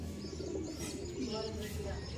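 A racing pigeon arrives at its loft after a flight from San Nicolas, Pangasinan. Soft cooing sits under nearby talk in a short outdoor moment.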